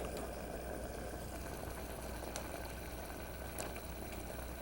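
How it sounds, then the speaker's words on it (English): Rice in a pot of water simmers on a low flame, a steady faint bubbling hiss with soft pops breaking the surface, continuous and unbroken throughout. "The rice should come to a rapid boil. Now we're going to turn it down to a very low simmer. Watch the bubbles."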